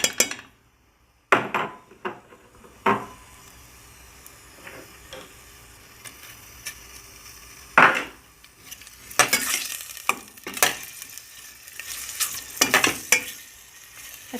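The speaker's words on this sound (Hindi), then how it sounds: "अच्छी तरह से हम प्याज भून लेंगे।" Onions fry in hot oil over a normal flame, a low sizzle under repeated clinks and scrapes of a spoon stirring against the pan, the strokes growing busier toward the end.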